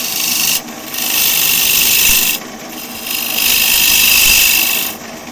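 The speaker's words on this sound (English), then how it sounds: "I'll use my spindle gouge." Wood turning on a lathe, a spindle gouge cutting at an angle into a spinning wood blank, giving a loud, steady scraping rasp in three long passes broken by brief pauses.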